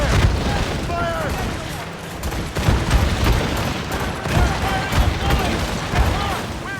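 Ship cannons firing broadside in Assassin's Creed Rogue, rapid overlapping booms rolling continuously in a loud barrage, with shouted crew voices over the gunfire.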